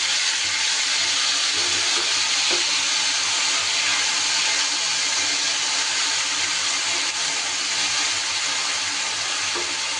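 Spice paste hits hot tempering oil spiced with whole cumin and whole garam masala, giving a steady, loud broadband sizzle and hiss that runs unbroken and close for the full stretch.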